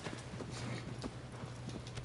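Horse hooves clip-clop at a steady trot in the Shadow of the Colossus video game, a regular rhythm of soft, close thuds over a low musical drone, with no talking.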